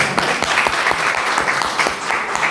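Short burst of applause from women in the audience at a French book conference, a modest group clapping unevenly with distinct individual claps, close and fairly loud.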